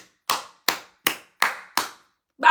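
Five sharp hand claps in a slow, even rhythm, each one loud and close with a short decay, and a sixth clap begins right at the end.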